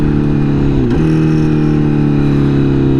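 A liter-class sport motorcycle pulling at quarter throttle, its engine a loud, steady drone heard from the saddle, with a brief pitch dip as a gear changes near the start before the tone holds and climbs gently.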